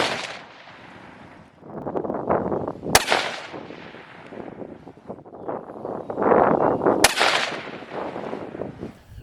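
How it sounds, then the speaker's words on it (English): Two sharp rifle shots from a 7mm-08 crack loudly outdoors, spaced about four seconds apart, over gusty wind noise buffeting the microphone. "Now let's shoot the last three right there."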